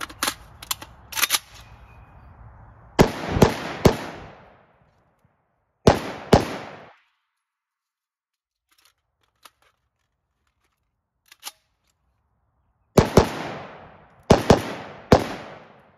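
A Palmetto State Armory AK-556 rifle fires outdoors in loud, sharp shots, some in quick pairs or triplets, separated by long silent pauses, with a few faint distant pops between the groups.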